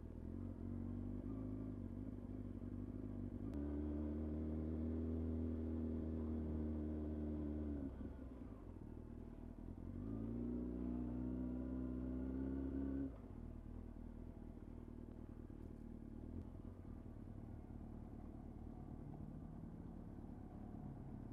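Motorcycle rolling across a heavily salted parking lot on the way to pick up groceries, engine rumbling steadily and loud with slight surges and clattering road noise throughout, no talking.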